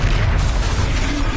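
A brief, dense boom of the Confringo fire spell bursts in a video game, a single muffled explosion lasting about a second.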